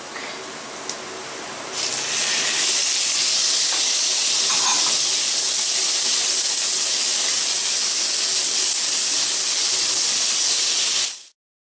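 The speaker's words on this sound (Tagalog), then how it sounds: "Pwede na ilagay natin yung ating pork." Pork dropped into a hot pan for ginataang bokchoy bursts into a loud, steady hiss of sizzling that holds strong and close for several seconds before cutting off.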